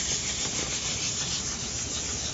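Headlight lens being hand-sanded with wet 1000 grit sandpaper during a restoration, a steady, continuous close rubbing hiss that holds even throughout with no pauses and no voices.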